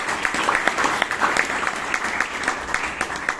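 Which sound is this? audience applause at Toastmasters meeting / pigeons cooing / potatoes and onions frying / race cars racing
audience applause at Toastmasters meeting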